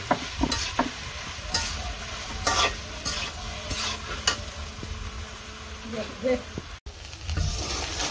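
Hilsa fish fry in oil seasoned with turmeric and chili, giving a low continuous sizzle. Repeated scraping stir strokes cut through it, and a voice talks faintly in the background.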